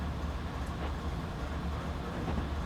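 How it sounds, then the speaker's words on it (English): Steady, dense rumble of a train running through a tunnel on the Marias Pass line in a train simulator game, continuous and loud with no pauses or voices. "The whole train might be in the tunnel at once here."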